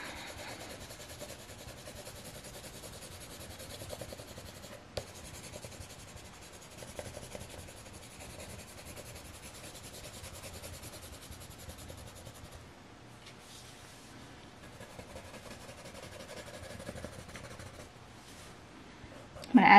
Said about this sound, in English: we're going to grab our white pencil crayon and we're going to slowly begin shading along the top